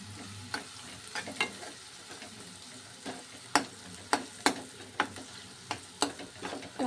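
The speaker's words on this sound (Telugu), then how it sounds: "కొంచెం లైట్గా బ్రౌనిష్ కలర్ వచ్చే వరకు ఫ్రై చేస్తూనే ఉండాలి." Ingredients for a chicken curry frying in a pan toward light brown, a soft steady sizzle broken by repeated sharp scrapes of a spoon stirring, close and fairly quiet.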